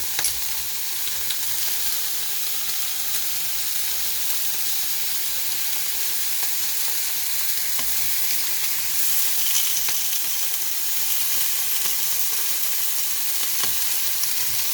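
Pork belly frying in a pan, a loud, dense, continuous hiss and crackle of spitting fat, steady and close throughout with no talking.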